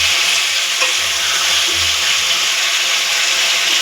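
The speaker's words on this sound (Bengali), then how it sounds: "আলুটা ভালো করে কষিয়ে নিব।" Potatoes with chili powder, salt and spice paste stir-fry in a pan, giving a loud, steady close sizzle with continuous scraping and rubbing of a spatula, and no speech.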